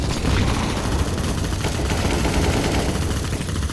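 Sustained automatic gunfire in Counter-Strike: Global Offensive, a loud, dense, unbroken rattle of shots filling the whole stretch at close range.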